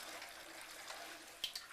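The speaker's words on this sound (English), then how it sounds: "So I'm just going to turn the water on." Cold water runs from a tap, a soft, steady hiss of flow at low level, with a couple of faint clinks near the end.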